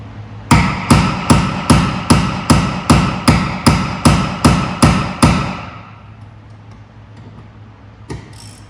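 A big ratchet with a step-down on the bar works a tough bolt loose on a 2006 Vauxhall Corsa C 1.0, giving about a dozen loud, evenly spaced metallic clicks close by, then quiet with one last faint knock.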